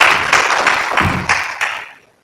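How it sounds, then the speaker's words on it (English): An audience at a health expo plenary session bursts into loud applause, a dense clatter of clapping hands with a few stronger surges that fades out over about two seconds, with no voices. "You see how people clap when money is mentioned."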